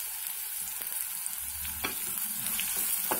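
Spices with turmeric and salt frying in a pan for a tomato curry, giving a steady close sizzle with a few brief stirring clicks and scrapes and no talk.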